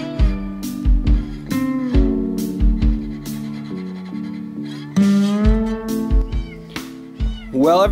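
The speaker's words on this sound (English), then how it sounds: "we found a little baby kitten on the side of the road" A tiny baby kitten found at the roadside meows over and over, loud and close, its high cries coming in quick repeated bursts with short gaps.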